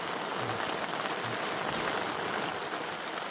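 Rain falling at a backcountry campsite in Yosemite National Park, a dense, steady patter of drops on surfaces that holds at an even, close level throughout, with no talking.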